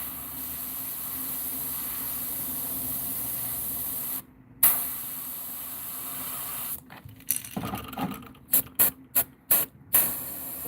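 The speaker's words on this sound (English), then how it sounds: "I'm spraying just a little darkness around the front of the face above the eye" An airbrush sprays paint onto a bluegill fish pattern, a steady close hiss that cuts off, then resumes in a series of short bursts.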